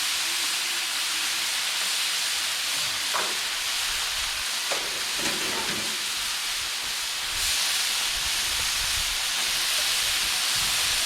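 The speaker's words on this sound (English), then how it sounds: "Dump the broccoli on there. Now, I'm gonna put a couple extra things of butter on here." Broccoli and butter sizzle on a Blackstone griddle, a steady bright hiss and crackle of frying close by, with a few soft clanks of a spatula and no speech.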